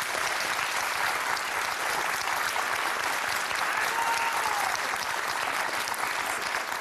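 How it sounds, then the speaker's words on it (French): Steady applause from a studio audience on a French talk show, a dense, even wash of clapping that holds at a constant level throughout with no voices over it. "C'est important, les applaudissements ?"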